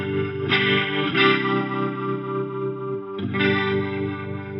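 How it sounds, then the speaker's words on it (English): An electric guitar chord strummed through an Electro-Harmonix Lester G rotary speaker pedal, sustained with a swirling chorus-like warble, re-struck a few times with audible shifts as the Leslie speed switches over and back. "hit this speed button here as I strum a chord, and you're going to be able to hear how quickly it just changes right over"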